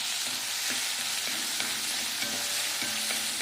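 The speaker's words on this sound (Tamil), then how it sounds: "இதை நல்லா வதக்கிட்டுலாங்க." Onions, garlic and green chilies sauté in a hot pan with a loud, continuous sizzle, broken by a few clinks of a stirring spoon.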